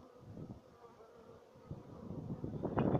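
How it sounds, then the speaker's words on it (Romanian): Pollen-laden honey bees buzz steadily close by at a hive, the drone swelling louder toward the end, with light wind in the background. "O grămadă de albinute cu polen."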